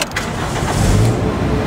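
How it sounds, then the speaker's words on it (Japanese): A limited-run sports car, one of 100 made, starting up as the key turns, a brief mechanical click giving way to a loud, close engine settling into a low, rumbling idle. "ちょっとエンジンかけてさ"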